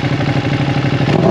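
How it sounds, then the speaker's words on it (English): Close and loud, a Ducati V2 Bayliss fitted with a full Akrapovic exhaust churns out a lumpy, pulsing idle that swells into a short rev near the end, with no voices. "What a beautiful exhaust."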